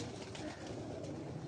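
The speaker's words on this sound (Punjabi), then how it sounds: "ਡੈਡੀ ਕਬੂਤਰ ਹੈ ਇਹ" Pigeons on a rooftop in Wazirabad cooing softly, low and fairly faint, against a steady outdoor background.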